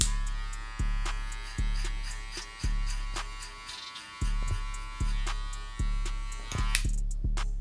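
Electric hair clippers buzzing steadily during a burst fade haircut, close and continuous, with repeated short surges as the blade passes through hair about every second.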